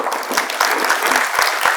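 A conference hall audience at a district conference opening applauds a speaker taking the stage, a dense, loud burst of many hands clapping at close range, sustained and even.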